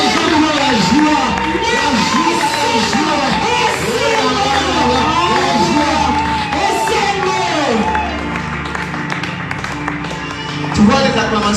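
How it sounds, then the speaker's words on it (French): A church congregation in Kinshasa cheers and acclaims together, a dense crowd of voices rising and falling in loud, overlapping waves of shouts and whoops that carry on throughout, with some scattered clapping. "Tu vois les acclamations que tu fais là."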